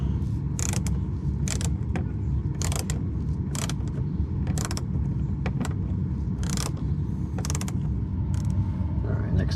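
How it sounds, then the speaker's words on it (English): A right angle driver runs in short ratcheting, whirring bursts while screwing mud flap screws into a Tesla Model Y, about a dozen close mechanical pulses over a steady background hum, with no talking. "I've got a little right angle driver here. We'll just screw those in"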